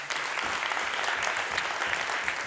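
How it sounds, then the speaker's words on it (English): A conference audience at a hologenomics welcome talk gives a sustained round of clapping, dense and even throughout, moderately loud with no talk over it. "Let's give them a clap."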